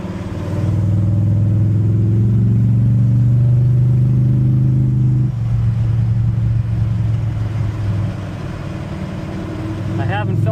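A Chevrolet El Camino engine drones steadily from inside the cab while driving, a loud low hum that shifts pitch midway as the gear changes, with talking over it.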